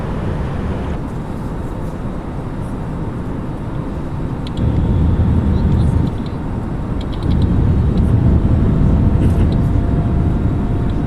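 Landing gear lowers on an Airbus A320neo in Microsoft Flight Simulator on approach to Madeira, a steady loud cockpit and engine roar that thickens as the gear comes down, with a few faint clicks above the drone.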